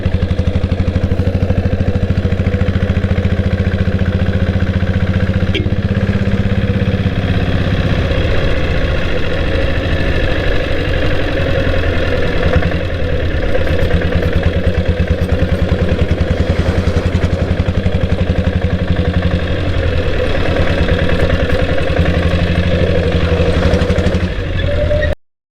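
A Royal Enfield Bullet motorcycle with a diesel engine idles close by, with a loud, steady, low thumping rumble and a knocking character that continues without a break.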